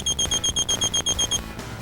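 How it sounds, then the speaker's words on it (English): A Husqvarna Automower robotic mower charging station emits a rapid series of short, high electronic beeps, pulsing evenly for over a second, then stops, leaving a faint hum. "A continuous beep means that the search and boundary wires are not broken."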